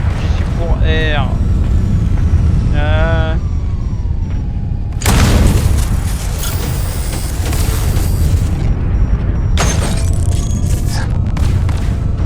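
A loud explosion blast goes off in a French multiplayer shooter game, a broadband burst about midway followed by a second blast near the end, set against game noise, siren-like tones and chatter.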